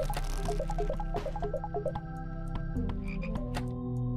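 Frogs croak repeatedly in a horror video game, a steady rhythmic chorus of close, loud croaks over a low droning game backdrop, with watery squelching and dripping sounds, and no talking.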